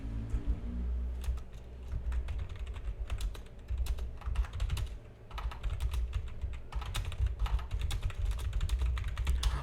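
Code being typed on a computer keyboard: rapid, uneven clusters of close key clicks with brief pauses between bursts, heard alone with a faint low background hum.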